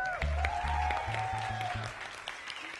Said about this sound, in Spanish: Un aplauso para Emilio Urbina en monitores.